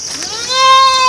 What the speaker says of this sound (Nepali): यो बाख्रा चाहिँ कराएका छ